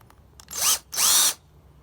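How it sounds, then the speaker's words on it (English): A power drill whines through deck brace wood in two short bursts, the motor pitch sweeping as it bites, close and loud. "Make sure your drill does not drift."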